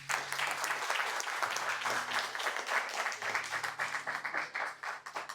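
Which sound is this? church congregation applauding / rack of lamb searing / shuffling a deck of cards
church congregation applauding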